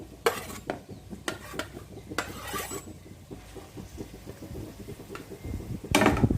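Onion, carrot, mushroom, beans, chili and pointed gourd stir-fried together in a pan for fried rice, with repeated scraping and clinking of a spatula against metal over a soft sizzle, close and fairly busy, no voices.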